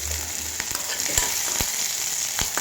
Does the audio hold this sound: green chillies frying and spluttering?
yes